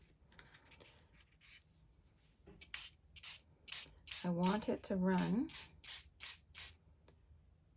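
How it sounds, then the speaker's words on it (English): Several quick sprays from a spray bottle spraying water onto a watercolour card hiss in short bursts, close by, while a person talks over them. "we're gonna spray it again"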